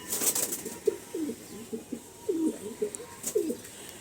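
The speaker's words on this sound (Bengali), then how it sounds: "পুরো পিলাঙ্কা আইসের পায়রা দেখুন" Several pigeons coo in soft, throaty phrases, repeating at an uneven pace, close by in a quiet space.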